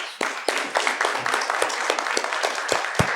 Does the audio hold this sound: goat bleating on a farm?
no